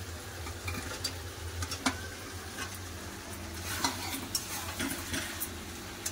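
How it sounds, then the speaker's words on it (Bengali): Meat and pre-fried potatoes being sautéed in oil in a pan, a low steady sizzle with scattered spoon scrapes and clicks from stirring, fairly quiet and with no talking. "আলু দিয়েও 5 মিনিটের মতন কষে নিয়ে"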